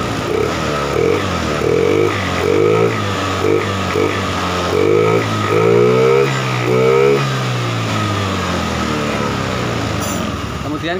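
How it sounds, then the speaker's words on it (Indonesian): Fuel-injected motorcycle engine starting up and running steadily nearby, its continuous putter rising and falling slightly while someone talks over it. "Sekarang kita hidupkan motornya ya."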